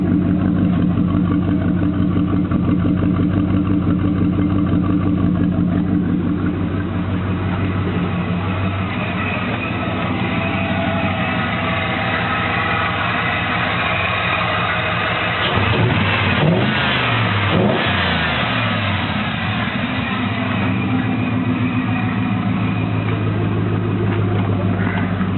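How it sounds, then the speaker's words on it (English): A 1995 Chevy Tahoe converted to an LQ4 6.0-litre V8 idles with a deep, pulsing exhaust tone, then revs up sharply around the middle before settling back to a steady rumble, close and loud throughout. "The exhaust tone."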